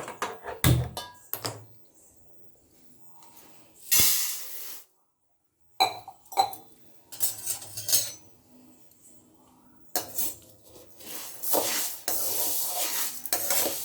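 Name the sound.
urad dal dry roasting and stirring in a pan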